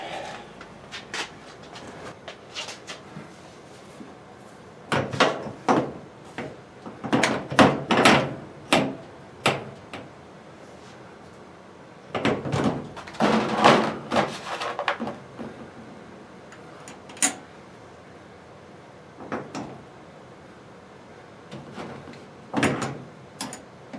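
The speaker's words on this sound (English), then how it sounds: "So all we got to do is put the door on." The door of an LG Sensor Dry dryer, model DLG7101W, is refitted, with bursts of clicks, knocks and plastic-and-metal clatter separated by quiet pauses, close and fairly loud, with no talking.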